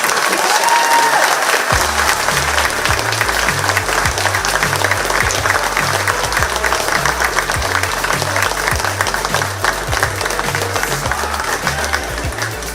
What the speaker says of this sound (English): please give a round of applause to these lovely young ladies